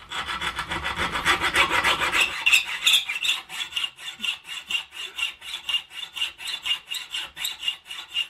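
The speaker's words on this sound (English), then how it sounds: "I'm just going to take a hacksaw and I'm going to cut down the middle of it." A hacksaw cutting down the middle of a bolt clamped in a vise: a dense rasping stretch, then steady back-and-forth metal strokes in an even rhythm, about two per second, close and alone.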